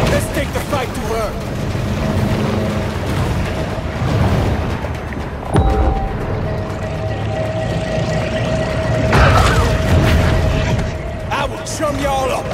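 A torpedo blasts underwater in the shark game Maneater: heavy booms break through a dense wash of rumbling water and engine noise, with game voices speaking over the chaos.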